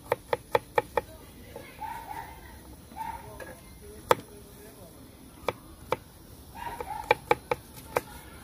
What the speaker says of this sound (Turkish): Tamam şimdi hemen sarımsaklarımızı ufak ufak doğrayalım.